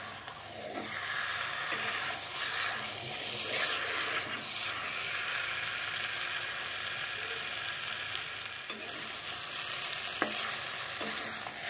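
Potatoes and spices sautéing in a pan for a vegetarian Bengali potato curry, giving a quiet, continuous sizzle with occasional scraping stirs and a sharp clatter late on, no voices.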